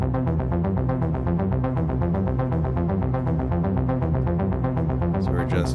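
Polyend Play+ synthesizer playing a fast, steady run of repeated rich harmonic notes with the reverb raised, sustained and loud throughout with no voices.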